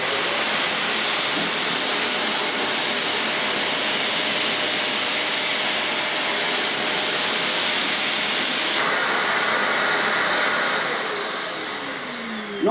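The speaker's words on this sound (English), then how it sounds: "I'm going to see how well this Wellco CV16 picks up the dirt" A Wellco CV16 vacuum cleaner runs with its carpet-and-floor nozzle on the hard floor setting, brushes down, giving a loud continuous whooshing roar that stays steady before easing slightly at the end.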